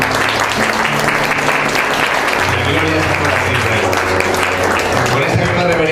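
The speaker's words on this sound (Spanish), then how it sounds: "Démosle un fuerte aplauso al Señor." A church congregation bursts into strong, sustained applause that fills the room, a dense wash of clapping that holds steady throughout, with voices and music carrying on underneath.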